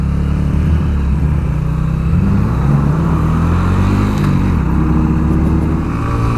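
A 2017 Sinnis RSX125 125cc motorcycle pulls away with a loud, close engine drone that rises steadily as it accelerates, with no talk over it.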